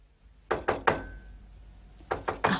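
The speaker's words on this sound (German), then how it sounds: "Mir ist, als ob ich ein Pochen an der Tür gehört hätte." Knocking on a wooden door as a radio drama sound effect: a group of three sharp knocks, a pause of about a second, then three more, close and clear with no voices.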